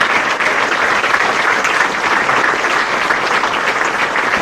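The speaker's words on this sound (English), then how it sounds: "I want to give them a round of applause" A room full of people at a Hall of Fame induction ceremony claps for the team, a loud, steady, unbroken round of applause throughout.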